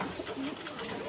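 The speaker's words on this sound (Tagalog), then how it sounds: "ito yung ibon sir" Pet pigeon cooing softly, a faint low murmuring call over a short stretch, with some quiet background noise.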